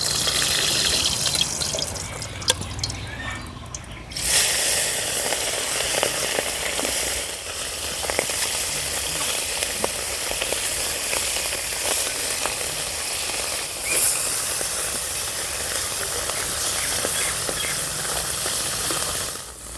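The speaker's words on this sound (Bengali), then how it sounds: "তেল গরম হয়ে গেছে এবারে মাছগুলো দিয়ে দেবো" Loud, continuous sizzle of small fish frying in hot mustard oil in a wok, crackling steadily close up, with a brief sharper burst partway through.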